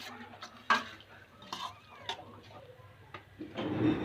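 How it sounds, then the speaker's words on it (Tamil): Cooked field beans being stirred into a chilli-spiced curry in a pan: a series of irregular scraping and clinking strokes of a spoon against the pan, with light sizzling and louder bumps at times; no talking. "சேர்த்து நல்லா கிளறிக்கலாம்."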